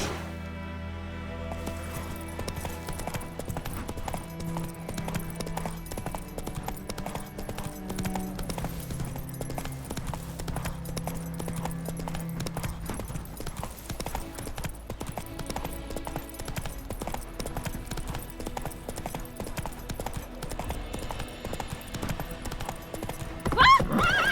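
Horse hooves clip-clop steadily in The Witcher 3, a continuous rhythmic trot running the full length over background game music, with a brief whinny-like tone near the start and no talk.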